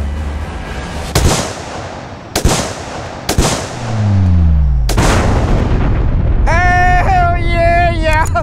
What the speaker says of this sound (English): I'm gonna take this 300 Win Mag and blow shit up